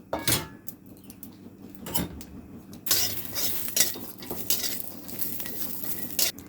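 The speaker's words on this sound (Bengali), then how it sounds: "সবার প্রথমে কড়াইতে আমি কাঁচা লঙ্কা আর রসুন শুকনা কড়াইতে ভেজে নিচ্ছি।" Green chillies and garlic dry-roast in a wok while being stirred, with close metallic scraping, clinks of a spatula and a light sizzle, louder in the second half, no talking.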